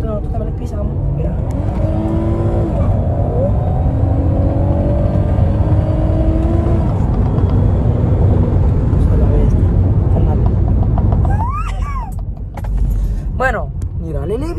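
A new Acura car accelerating on the road, its engine droning loud and close with rising harmonic tones and wind rush before the sound eases off near the end.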